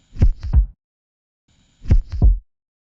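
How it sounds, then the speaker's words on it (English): Three layered kick drums combine into a triple-pulse low thump for an electronic track, played twice with silence between, each pass a quick cluster of deep, punchy hits with no voice over it. "So all the 3 kicks together sound like this."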